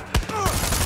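Gunfire in the Far Cry 6 video game: a loud burst of rapid shots followed by a sharp crack and ringing, all within a brief moment.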